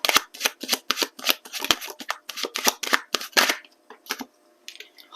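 Tarot cards shuffle and are drawn in a rapid series of crisp, close riffling bursts, each a sharp papery flutter, thinning out toward the end into a few softer card slides.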